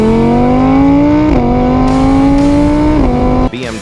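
A Koenigsegg Agera RS engine revs loudly with a rising, harmonic exhaust note that dips briefly twice as gears shift, then cuts off near the end.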